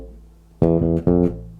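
Two punchy electric bass notes ring out alone, each sustaining briefly, in a short blues groove phrase ending on an F after a sixteenth-note rest.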